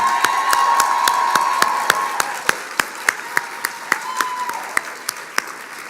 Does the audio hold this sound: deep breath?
no